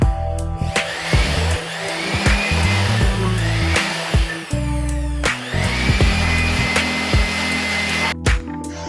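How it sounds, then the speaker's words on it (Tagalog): An air blower cleaning the inside of a PC, with the fans inside spinning, gives a loud whooshing roar in repeated bursts that rise and fall, broken by short pauses and clicks. "nung ginamit ko na yung blower, syempre yung mga fan doon sa loob umiikot"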